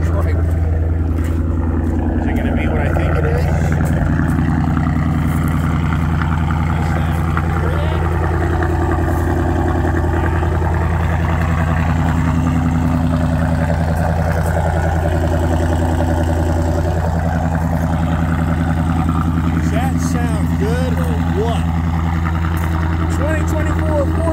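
A car engine running steadily close by with a deep, constant droning hum, rising and falling slightly in pitch as it revs, while a person talks over it.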